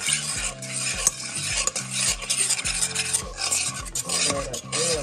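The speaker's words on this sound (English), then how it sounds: "And then I stir it." Spanish rice being stirred in a pot, a continuous run of loud scraping and clinking strokes from a utensil against the metal, with a faint sizzle underneath.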